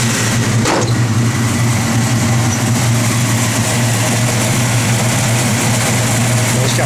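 A car engine fitted with a mild aftermarket cam and running on pump gas idles with a steady, loud, even rumble close by, with no talk over it.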